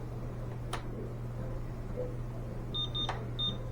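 A DTS-1 laser timing unit on a start line with a reflector set up gives several short high-pitched electronic beeps near the end, faint and clear over a steady low electrical hum, with a couple of sharp clicks before them.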